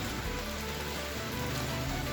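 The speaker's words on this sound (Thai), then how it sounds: "มาแถวนี้ฝนก็ตก" Steady rain falling on a surface, a dense even patter with no voices.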